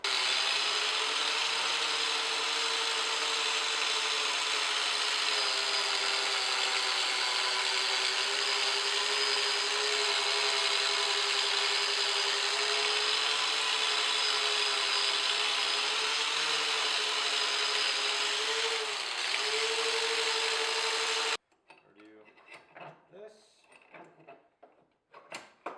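Power tool grinding down weld beads on a shift handle clamped in a vise, using a flapper disc: a loud, steady, continuous whine for about twenty seconds, pitch dipping briefly as the disc bites, then stopping abruptly into quieter clatter.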